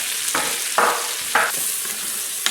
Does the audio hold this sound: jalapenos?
yes